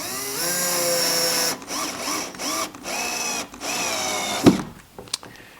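A power drill drives a #8 by 3/4-inch wood screw into an outfeed table for a SawStop saw, whining loudly in several bursts with pitch rising and falling. Brief pauses separate the bursts, and a sharp clack near the end marks the screw seating.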